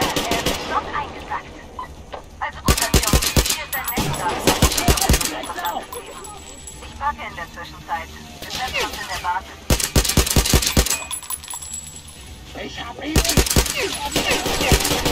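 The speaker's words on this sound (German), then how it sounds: "Nochmal drauf geschossen." Gunfire in Metro Exodus: repeated bursts of rapid automatic shots that come and go in clusters, loud and close, with someone talking in between and over the firing.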